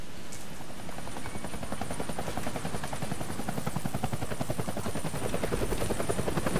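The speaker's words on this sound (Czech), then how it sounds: "nějaká helikoptéra" A helicopter thrums in the video game Deadlight, a loud, close, steady rotor chop pulsing evenly throughout with no letup.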